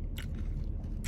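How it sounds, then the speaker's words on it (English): A close, crunchy bite into an Egg McMuffin stack with a hash brown in the middle, followed by muffled chewing and a second crisp crunch at the end. "crunch from the hash brown in the middle"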